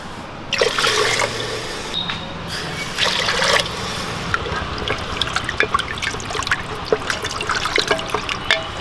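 Water poured into a pressure cooker while making rasam rice, a continuous close trickle and splash that settles into lighter dribbles and drips, with no talk.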